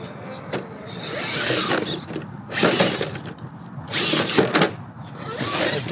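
An RC rock crawler on Injora comp pin tyres climbs an obstacle, its small motor whining and gears buzzing in several uneven surges up close, with short pauses between bursts.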